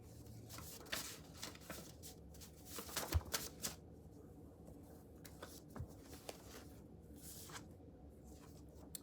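Tarot cards being shuffled and drawn at a reading, with soft riffling, flicks and slides of cardstock close by, quiet and uneven, clustered in short bursts without speech.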